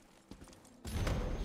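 Horse hooves in the video game Elder Scrolls Online, a few faint clip-clop thuds followed by a sudden louder burst of hoofbeats and movement.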